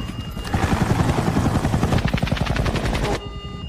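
A helicopter in an action film scene thuds with fast rhythmic rotor chops and engine roar, loud and close, building then cutting off abruptly near the end.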